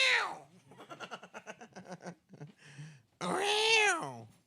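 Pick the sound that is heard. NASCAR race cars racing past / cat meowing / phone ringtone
cat meowing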